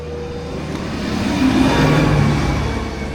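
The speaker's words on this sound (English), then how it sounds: "Tractor just drove up there." A tractor engine rumbles as it drives past outdoors, swelling to a peak in the middle and easing off again, steady mid-pitched motor drone without voices.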